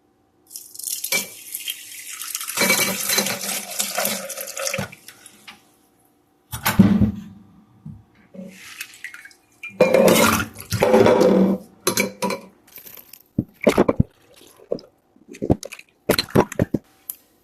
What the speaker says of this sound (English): Now I'm going to drain the beans.